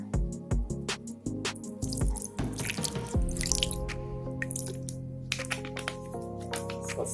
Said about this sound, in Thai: ล้างซะหน่อย